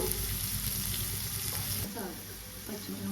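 Onions sizzle steadily in hot oil with green chillies, curry leaves and turmeric, stirred in a pan, a close, dense frying hiss.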